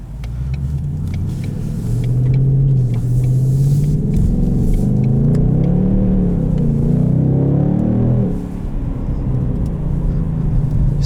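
A 2020 Ford Mustang GT Performance Package with an automatic gearbox accelerates hard in cold weather on summer tires. The engine note is a loud, close rumble that climbs in pitch through the gears, then drops back toward idle.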